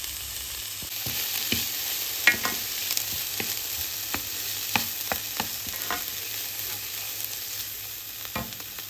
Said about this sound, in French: cuire un oignon haché en petits morceaux pendant 2-3 minutes avec un filet d'huile d'olive